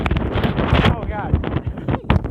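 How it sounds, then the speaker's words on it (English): Strong wind buffets the microphone at a campsite, a dense rumbling gust throughout, with people talking over it. "It's getting really windy."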